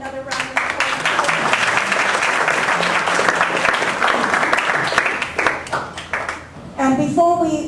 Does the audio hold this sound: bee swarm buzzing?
no